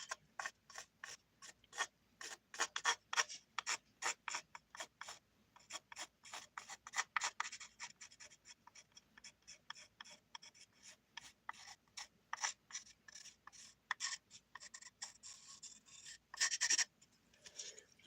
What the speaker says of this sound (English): I do this with a marker, or not marker, pencil, just a simple pencil, and I like, kind of like trace where I want the paint to go